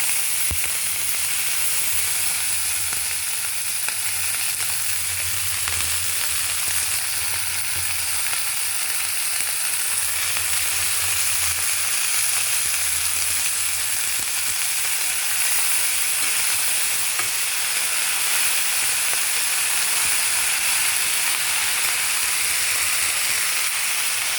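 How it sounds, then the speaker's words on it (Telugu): Tamarind and ponnaganti greens chutney base frying with salt in a pan, a steady, loud sizzle with hissing steam that holds throughout without voices. "ఇందులోనే సాల్ట్ అన్నీ వేసి బాగా వేపిస్తే"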